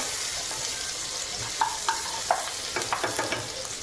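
Garlic and ginger-garlic paste sautéing in hot oil, a steady soft sizzle punctuated by a run of sharp spatula clicks against the pan toward the end.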